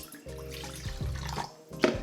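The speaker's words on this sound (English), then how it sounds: "I have 250 milliliters of water. I'm gonna add this into the pot." Measured water, 250 milliliters, is poured into a pot for simple cocktail syrup, giving a short close splash and trickle that starts and stops in two brief bursts.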